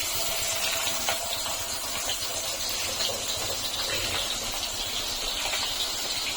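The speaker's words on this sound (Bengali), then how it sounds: "মাছ ভাজা হচ্ছে।" Fish fries in a pan with a constant, fairly loud hissing sizzle that stays even from start to finish, with no voices.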